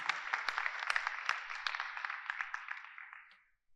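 Applause from an audience at the closing ceremony of an academic event, a dense crowd clapping that starts at full strength, holds steady, then thins and fades out near the end.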